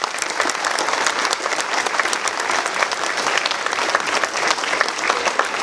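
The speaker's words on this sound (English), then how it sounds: "Please join me in a round of applause for Dr." Sustained applause from a school ceremony audience greeting a state superintendent, steady, dense clapping that holds at an even level from start to finish with no talking over it.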